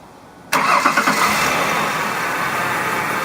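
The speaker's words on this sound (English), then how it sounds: "So I'm going to go start the car with these attached" A car engine starts up abruptly after a brief quiet moment, catches with a few uneven pulses and then settles into a steady, loud idle, heard close.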